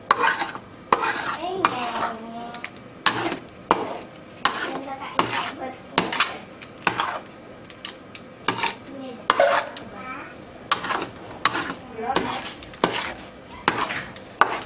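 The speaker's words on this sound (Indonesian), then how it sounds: "nyalakan api dan kemudian kita aduk-aduk sampai bumbunya ini benar-benar pecah dan mengeluarkan minyak" Spice paste stirred in a frying pan over the flame until the oil separates, a steady run of scraping spatula strokes and pan clatter, fairly close, with a soft sizzle beneath and no talk.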